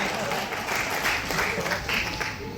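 Audience clapping at a live comic poetry performance, a dense, steady round of applause with crowd murmur, moderately loud and continuous across the short stretch.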